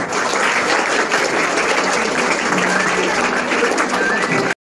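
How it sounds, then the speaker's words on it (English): Students and teachers at a Class X school farewell give sustained, even applause, a thick roar of claps that holds steady for several seconds before stopping abruptly. "Give a big round of applause."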